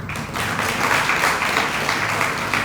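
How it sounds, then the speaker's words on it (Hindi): Scattered audience clapping at a spiritual discourse, a moderate patter of hands with low murmuring underneath, fairly close and continuous. "ताली बजाना।"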